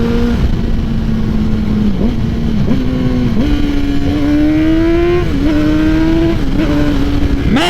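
A Yamaha R6 sport motorcycle ridden off-road, its engine a steady loud drone that rises and falls in pitch as the throttle is worked and gears shift, close and continuous throughout.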